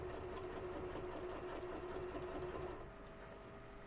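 A domestic sewing machine running with no thread, stitching binding on a Halloween table runner, gives a steady close whirring buzz that drops quieter near the end.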